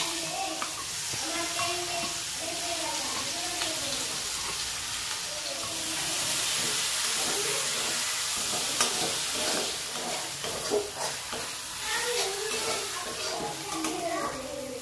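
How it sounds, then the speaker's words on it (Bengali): Chopped onions with cinnamon and spices frying in a pan, a steady broadband sizzle with stirring scrapes throughout, while a voice talks over it. "এইরকম পেঁয়াজটা ভেজে লালচে বাদামি হয়ে এসছে"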